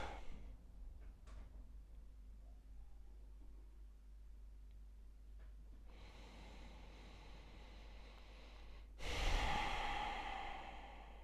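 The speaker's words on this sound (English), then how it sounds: "Let your breathing slow back down." After a yin yoga session for hips and sciatica, someone lying on the floor breathes quietly, then lets out two longer, louder breaths near the end, close and soft over a faint low hum.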